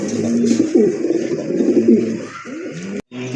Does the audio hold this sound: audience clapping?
no